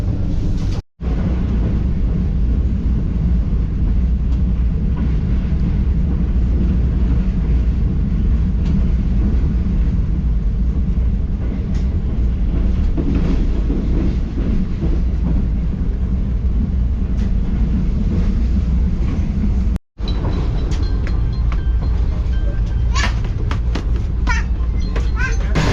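Tezgam passenger train running at speed between Karachi and Rawalpindi, heard from inside the business class carriage as a loud, continuous low rumble and rattle, with two brief dropouts and some clanking near the end.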